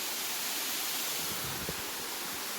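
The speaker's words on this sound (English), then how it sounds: "The waterfall is down below us." A man-made waterfall below a bridge gives a constant broadband rush of falling water, steady and moderately distant with no other sounds.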